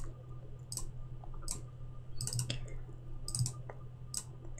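A few sharp, quiet computer mouse clicks spaced apart over a low steady hum of background noise.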